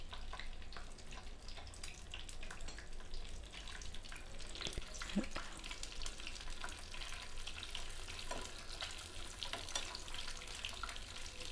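Cashews and raisins fry in a pan for a Diwali sweet, a faint, steady sizzle and crackle with a few soft clinks, no talking.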